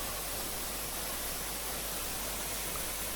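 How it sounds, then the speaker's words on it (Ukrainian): Rushing water from a Carpathian mountain stream or waterfall near Bukovel, a steady, dense broadband roar that holds even and unbroken throughout, close and alone with no voices. "Мені подобається шум води, не знаю, я можу слухати її"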